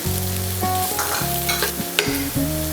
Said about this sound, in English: Saute it for 2 to 3 minutes.